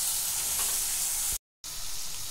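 Tomato, ginger-garlic paste, turmeric and curry spices sauté in a pan with a dense, hissing sizzle, interrupted by a short silent gap before resuming.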